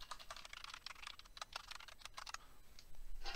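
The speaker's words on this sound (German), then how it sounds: "Wir können mal hier versuchen, andere Buchstaben zu tippen." Letters typed on a computer keyboard during an Arduino hobby experiment, a quick irregular run of light key clicks at close range with brief pauses and a denser burst at the end, no voices.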